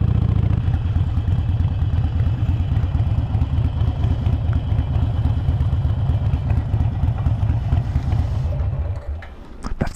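A Harley-Davidson motorcycle engine runs close by with a steady, throbbing loud rumble for about nine seconds before it suddenly drops away.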